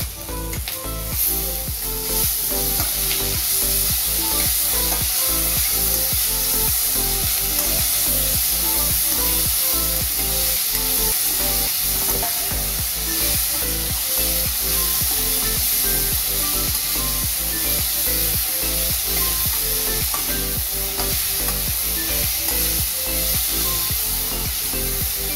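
Onions and tomatoes sauté in a pan under a loud, continuous sizzle, with a regular scraping stir repeating throughout and no talking over it.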